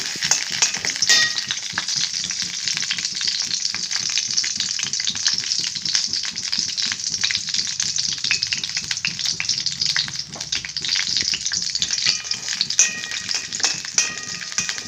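Cashews and almonds fry in ghee for payasam, a loud, steady crackling sizzle with occasional stirring rattles from the pan, continuous throughout with no voices.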